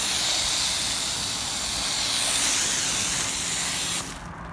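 A hose foamer sprays foam booster onto a car, making a loud, steady, broadband rushing hiss. The spray holds close and unbroken, then drops off abruptly near the end.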